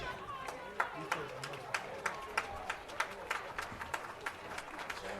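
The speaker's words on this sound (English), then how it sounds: "And his teammates now giving him a round of applause, and his coaches around him" Teammates and coaches at a high school football game clap for an injured player on the field, a steady scattered applause of sharp claps spread across the crowd, moderately distant over a murmuring background.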